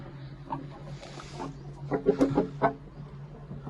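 Short clucks from a hen paired with a rooster, a few soft calls early then a closer burst of clucking near the end, over a steady low hum, no talk.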